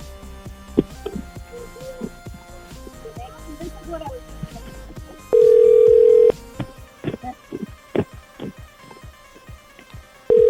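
A telephone dial tone after a hang-up, a steady tone sounding for about a second midway and again briefly at the end, amid scattered voices and background clatter.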